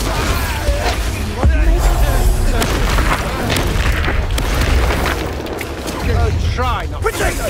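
Spell explosions during a boss fight in the Hogwarts Legacy video game, a dense run of loud booming blasts and crackles, mixed with shouted voices throughout.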